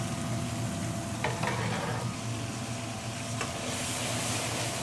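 Curry stirred and frying in hot oil in a large pot in an Indian restaurant kitchen, a steady loud sizzle with scraping stirs throughout, no voices.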